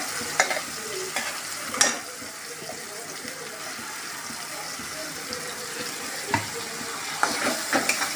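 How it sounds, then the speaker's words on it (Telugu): A paste of onion, tomato, ginger, garlic, coriander and tamarind fries in a pan for fish curry, a quiet continuous sizzle broken by occasional sharp clicks of stirring. "ఆనియన్ పేస్ట్, ఆనియన్, టమాటా, అల్లం, వెల్లుల్లి, కొత్తిమీర, చింతపండు ఇవన్నీ వేసిన పేస్ట్ వేస్తున్నాను ఫ్రెండ్స్"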